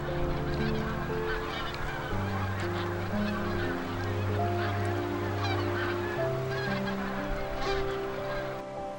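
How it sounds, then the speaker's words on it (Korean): Migratory geese honk steadily at Hado-ri, a coastal wetland and tidal flat on Jeju, many overlapping calls close by and loud, with no voices. "먹잇감이 풍부해서 수많은 철새들이 이곳에서 쉬어갑니다"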